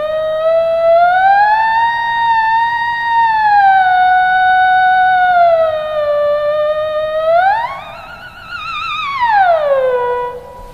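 A theremin played through a Boss VE-20 vocal processor set to soft pitch correction makes a loud, continuous, siren-like tone that glides smoothly up and down without stepping, with no voices.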